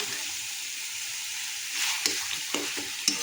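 Egg and potato curry masala frying in oil in a pan, a steady close sizzle joined by a few scraping stirs of a utensil near the end.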